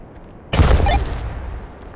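A burst of gunfire from the VR shooter Tactical Assault VR, one loud sudden volley lasting about half a second and then a rumbling echo that fades out.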